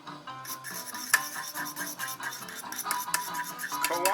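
Utensils clink and scrape against a pot while Paldo Mr Kimchi instant stir-fried noodles are stirred and mixed, a busy run of metallic taps and scrapes close up with no talking.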